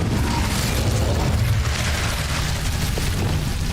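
An Incendio fire spell cast in Hogwarts Legacy, a loud, continuous roaring whoosh of flame with deep rumbling, sustained without pause.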